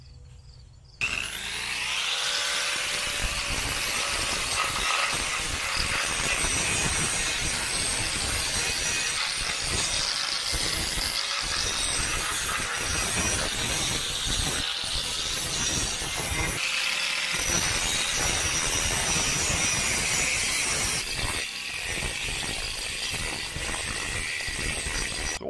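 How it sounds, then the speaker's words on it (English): A power tool grinds burrs off a fabricated metal part for a tractor three-point-hitch grapple, a loud continuous abrasive whine with rough texture that holds steady for about 24 seconds after a brief quiet start. "We're just gonna clean all these burrs off from it here real quick"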